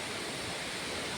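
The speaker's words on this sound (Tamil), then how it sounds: "நாங்கள் அருவி பக்கமாக வந்துட்டோம்." A waterfall at Kolli Hills roars in a dense, unbroken wash of rushing water, close and constant through the short stretch, with no voices.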